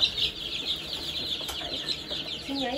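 Salmon Faverolles chicks on a Canadian farm give soft, overlapping high peeps alongside a brief flutter, fairly close and continuous, with a faint voice near the end.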